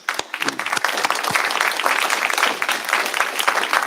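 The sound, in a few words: applause at a memorial service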